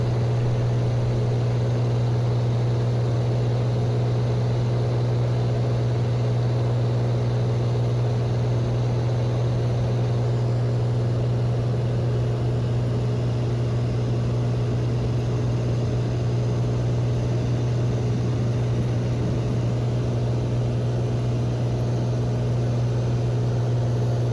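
Cirrus SR20 single-engine propeller airplane in flight over Miami Beach, heard from inside the cabin as a steady, loud low drone with constant tonal hum throughout, no talking.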